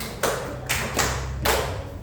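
Hand claps in a classroom rhythm game ring out as four sharp, evenly spaced slaps at a steady moderate pace, fairly close and clear over a low background hum.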